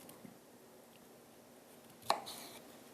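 A knife cuts a cauliflower in half, giving one sharp close chop near the end of a quiet stretch with faint background hiss.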